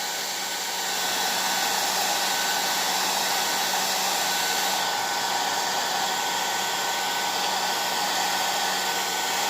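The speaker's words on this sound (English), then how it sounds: "take your heat gun and then hit it again" Heat gun blowing hot air onto pistol grips while they are being fitted, a steady, loud, close whooshing roar that runs throughout with no pauses and no talking.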